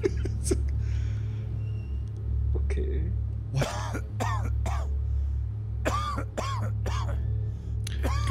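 A character coughing in the horror video game Visage: several harsh, close coughs and throat-clearing bursts scattered over a low steady hum, loudest and most clustered in the second half.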